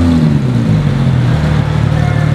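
A Porsche Carrera GT engine revs loud and close, a deep, rough mechanical roar whose pitch drops slightly as it settles, with people talking over it.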